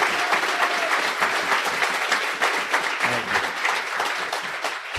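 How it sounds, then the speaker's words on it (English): Live podcast audience applauding a guest announcer for the Red Wings, a dense, steady burst of many hands clapping close and loud for about five seconds without talk. "It's very cool, and all that applause even without prompting."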